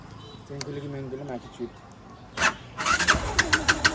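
A motorbike engine sputtering to life after petrol is added, with a few short cranks and revs rising near the end, preceded by a person talking close by.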